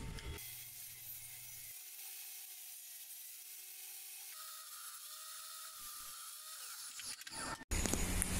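A table circular saw runs with a steady high whine, dipping in pitch as it cuts wood pieces at 22.5 and 45 degree angles, then swells into a louder, harsher burst at the end.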